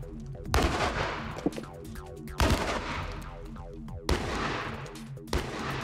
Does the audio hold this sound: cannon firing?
yes